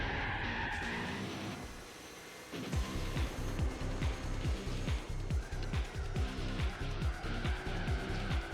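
A car drifting in Gran Turismo 4 gives a long run of squealing tire skids, with the engine revving in rapid repeated pulses over a steady racing roar.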